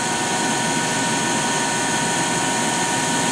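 A Microcut Challenger LT-52 two-axis CNC lathe running at 1,200 RPM gives a steady, loud, broadband machine roar with a constant high whine, unchanging and close, with no talk.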